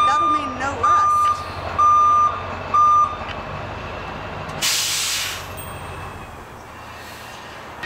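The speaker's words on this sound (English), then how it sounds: "We have a new school bus arriving." A Scottsdale school bus backs in with three loud, evenly spaced reversing beeps, then a sharp burst of air-brake hiss, with a diesel engine idling underneath and someone speaking briefly.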